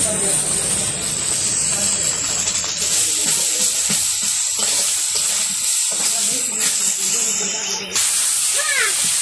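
Fried hilsa fish with onion, green chili and garlic sizzles and hisses in a wok, a loud steady frying sizzle with bursts of scraping as it is stirred, and a voice talks briefly near the end.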